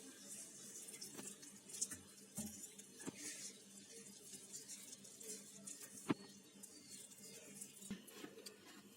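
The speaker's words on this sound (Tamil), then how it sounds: "கொஞ்சம் தண்ணி ஊற்றிக்கலாம்." Water poured from a container into flour for chapathi dough, a quiet trickle with soft splashes and a few small knocks, close and faint, with no talking.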